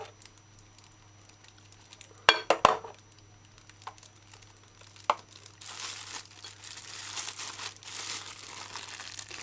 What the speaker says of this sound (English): pour it in a clean plastic bag, as I'm doing